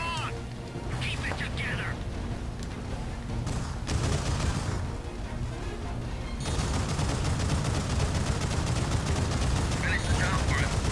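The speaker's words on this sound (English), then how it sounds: "I think we got a sniper shooting at us." Gunfire from sniper and tank weapons in the Gundam Crossfire mech combat video game, repeated shots and booms layered over dense continuous battle noise, loud and close, with someone talking over it.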